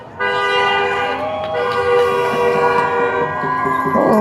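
Several vehicle horns blare together at a street protest in Canby, Oregon, a loud, sustained tonal honking, overlapping continuously with traffic noise beneath.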